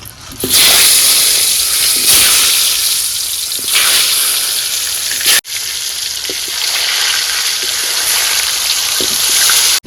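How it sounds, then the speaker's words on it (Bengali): Potatoes coated in salt and turmeric frying in hot mustard oil in a kadai, a loud, steady hissing sizzle up close, briefly interrupted midway, with no talking. "তেল গরম হয়ে গেছে এখন নুন হলুদ মাখানো আলুগুলো ভেজে নেবো"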